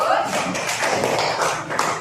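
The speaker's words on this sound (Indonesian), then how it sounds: "tepuk tangan untuk semuanya yang sudah maju" A primary school class claps in a dense, continuous patter of applause throughout, with voices mixed in underneath.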